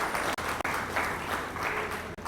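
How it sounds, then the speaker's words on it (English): Audience applause at a regional cocoa research symposium for West and Central Africa, steady clapping from a roomful of people that carries on for a couple of seconds with brief dips. "can we give ourselves a round of applause?"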